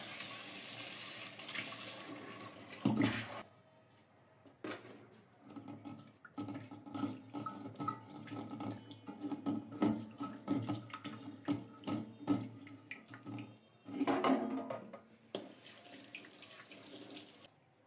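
Tap water runs into a kitchen sink as pieces of rohu fish are rinsed, a close, steady splashing stream that stops and restarts several times with handling noises between.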